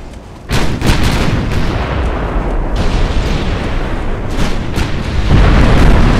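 Naval gunfire from 14-inch battleship turrets in Ultimate Admiral: Dreadnoughts thunders in loud, overlapping booms over a dense rumbling wash of battle, with no voices.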